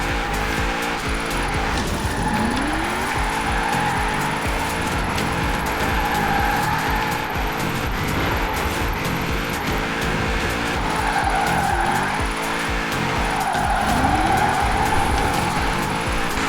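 A 2013 Toyota GT86 with itasha livery skids and spins out in Forza Horizon 4, with a loud, steady engine roar and long sweeping tire squeals rising and falling across the run.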